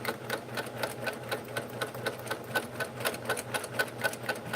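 Home sewing machine stitching a quilt with large swirl stitches, a steady fast rhythmic clatter of needle strokes running continuously at close range with no voices.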